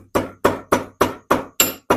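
Dry-roasted spices for chana dal pounded by hand, six firm evenly paced thuds, close and clear, with quiet gaps between strikes.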